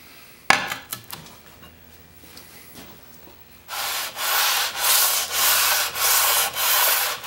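A hand plane's metal sole is rubbed back and forth on wet sandpaper to flatten it, giving a loud, rhythmic scraping of about seven even strokes after a few light knocks and taps.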